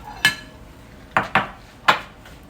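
A metal pot set upside down over a mussel (kallummakkaya) biriyani gives four sharp metallic clinks and clanks, close and clear, with quiet pauses between.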